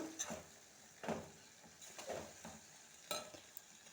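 Curry being stirred in a pan as it sizzles, with broad scraping strokes about once a second over a steady frying hiss, close and moderately loud, no talking.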